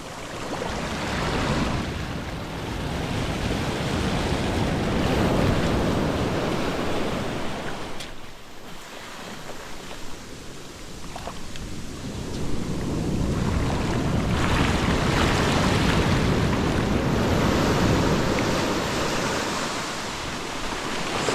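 Ocean waves surging onto a beach as the tide comes in, a loud, continuous rushing wash that briefly eases midway before building again, with no voices.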